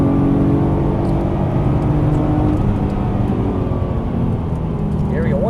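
A Nissan GT-R runs on a race track, its engine a loud steady whirring drone while a person speaks over it.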